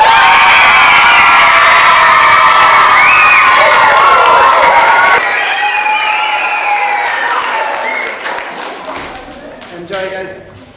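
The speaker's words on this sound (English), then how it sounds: "shall we practice our screaming and our clapping?" Children at a launch event scream and cheer loudly while clapping, a dense close burst of shouting that fades into scattered applause and a few whoops toward the end.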